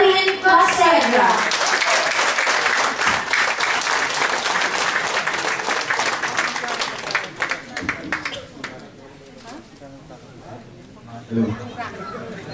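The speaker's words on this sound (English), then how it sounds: "Let us welcome him a big round of applause, Architect Erwin Consuegra." A ceremony audience breaks into loud, dense applause welcoming a speaker, the clapping thinning out after several seconds into scattered claps, murmured chatter and a few voices.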